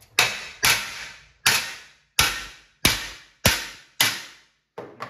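Eight sharp metallic taps strike the metal control panel of a Solar Fox arcade cabinet, each a close ringing knock that fades quickly, spaced roughly half a second apart with a final softer pair.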